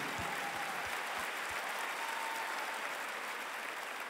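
Large arena audience at a concert clapping for a trumpet player in the band, a continuous wash of applause with faint cheering, steady and full.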